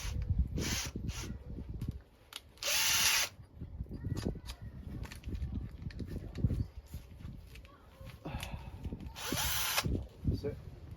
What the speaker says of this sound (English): Alright, now the big beastie drill.